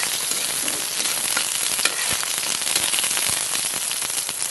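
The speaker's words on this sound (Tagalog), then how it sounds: "Lagyan na natin yung bawang. Lagyan na natin yung sibuyas." Garlic and onion frying in a heated pan for chicken feet, a steady loud sizzle with dense crackling pops throughout, close up and with no talk.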